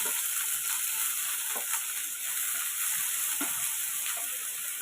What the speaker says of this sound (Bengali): পেঁয়াজগুলো একটু মোটামুটি হালকা ভাজবো